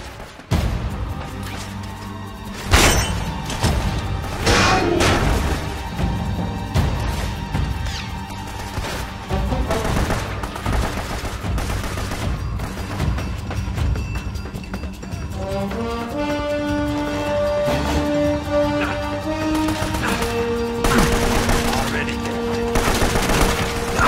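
A mounted gun fires in Uncharted: Drake's Fortune at the fortress, loud bursts of gunfire and crashes over a musical score with sustained tones, shouting voices mixed in.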